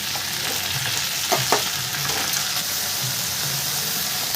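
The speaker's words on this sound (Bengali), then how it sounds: "লাউ শাকটা একটু হালকা করে এটার সাথে একটু হালকা করে ভাজা ভাজা করে নেব" Bottle gourd leaves fry lightly in a pan with salt, making a continuous soft sizzle broken by a couple of louder stirring scrapes. No voices are heard.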